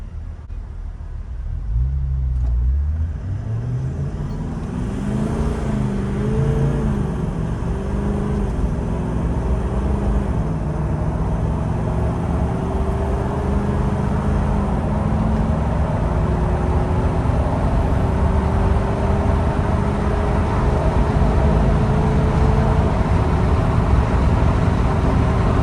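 A Toyota Land Cruiser 79 series with an 8-speed automatic pulls away at half throttle, its engine droning loud and steady as revs rise and drop through quick gear changes, then settle into a long, even climb.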